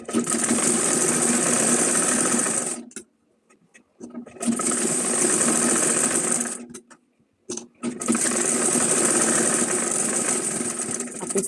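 Sewing machine stitching a folded cloth bag, running in three long steady bursts separated by short pauses, loud and close with no talking.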